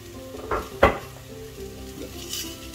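Tomatoes and garden-fresh curry leaves hit a frying pan for a Chinese-style fish curry, with a sharp metallic clatter of pan and utensil over a soft, steady sizzle.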